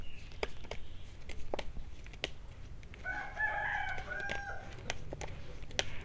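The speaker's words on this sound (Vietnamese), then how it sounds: "Và cái đàn gà nó lại tới nhà mình để nó kêu nó rồi." A flock of chickens heard at a home around four in the afternoon, with a rooster's crow ringing out midway over scattered clucks and sharp pecking clicks, fairly near, with no talking.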